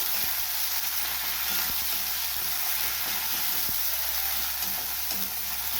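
Chopped onions frying in a pan for a Bengali pomfret curry, a steady broad sizzle with faint stirring scrapes and light clicks underneath, close and continuous with no talking.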